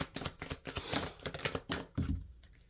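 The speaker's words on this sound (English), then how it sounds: "let's shuffle some out" Oracle cards shuffled by hand in a quiet room, a rapid run of soft papery riffles and flicks with a few sharper slaps, close and fairly quiet.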